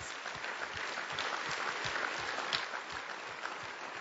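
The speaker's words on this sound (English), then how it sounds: "I think that's worth a round of applause." An audience at a large corporate company meeting breaks into applause, a fairly distant, even wash of many hands clapping that carries on steadily throughout.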